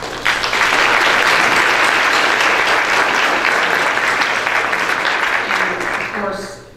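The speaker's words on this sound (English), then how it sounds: "give yourselves a huge round of applause" Rotary club members at a meeting give a loud, sustained round of applause, a dense wash of many hands clapping that holds steady, then tapers off at the end.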